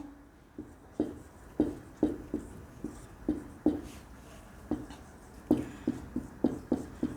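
A teacher writes a Sanskrit sutra on a board, producing a quiet series of tapping, scratching strokes in uneven clusters over about seven seconds, with no talking.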